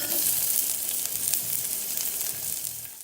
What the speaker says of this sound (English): So the first thing you're gonna do is saute your onions.